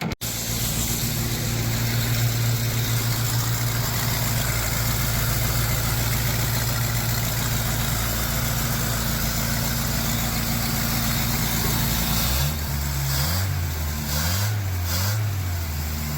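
An old car that has sat for about 20 years runs after a fuel line check on a suspected clogged filter, a loud, close, rough idle with a low droning hum that shifts to uneven surging and sputtering revs near the end.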